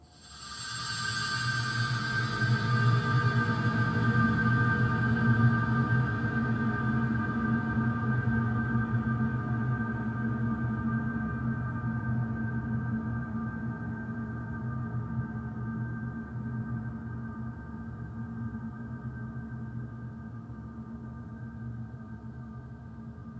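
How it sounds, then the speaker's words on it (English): A metal spring stroked with a piece of metal, heavily processed into a long droning, hypnotic space-like tone: steady low hums and a sustained mid tone, with a bright shimmer fading early, lasting over twenty seconds alone. "So sounds like a spring being stroked with a piece of metal, which has then been transformed through some treatments to sound like this."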